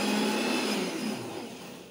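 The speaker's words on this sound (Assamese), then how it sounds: "সেইখিনি এটা ধুনীয়াকৈ মিক্সিত দিব" An electric mixer grinder grinds onion and garlic with a loud, steady, close-up whir that eases slightly toward the end, with no talking.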